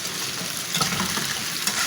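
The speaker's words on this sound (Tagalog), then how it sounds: "Sasabay natin prito ng hotdog." Tender Juicy hotdogs frying in a pan with potatoes, a dense continuous sizzle and crackle with light spattering pops, close and steady throughout.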